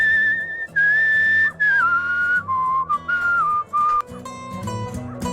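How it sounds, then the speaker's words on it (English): A video game character whistles a clear, wavering tune in several sustained phrases with brief pauses, loud and close, over a quiet low musical backdrop. "Let's whistle my way over here."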